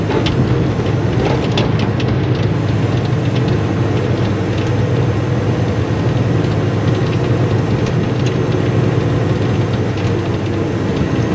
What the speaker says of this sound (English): I kind of like listening to trucking noises.